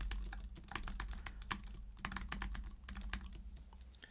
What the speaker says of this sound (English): I'm just typing random letters.